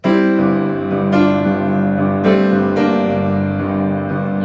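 Piano notes smeared together into a continuous wash as the sustain pedal stays held, each new note piling onto the ringing ones before.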